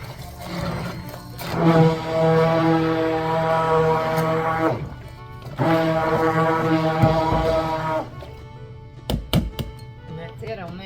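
A handheld emulsion blender whirring at high speed in two long bursts, a loud steady motor whine with a short pause between, then a few clunks and knocks as it is set down.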